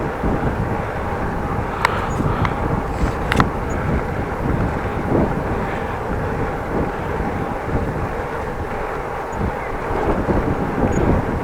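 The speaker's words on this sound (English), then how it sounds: "And now driving home, a little bit of wind." Steady wind buffets the microphone while riding home on a scooter, a constant rumbling rush with a few faint clicks, and no voices.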